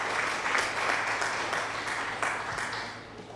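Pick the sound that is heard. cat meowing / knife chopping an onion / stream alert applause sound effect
stream alert applause sound effect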